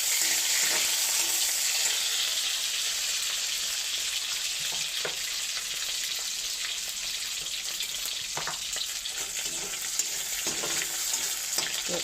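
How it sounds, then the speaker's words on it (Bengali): Dried fish (shutki) fries in hot oil in a pan, producing a dense, continuous sizzle and crackle at close range with a few faint utensil knocks, and no voices. "আই শুটকি এগুলো ভাজি নেবার"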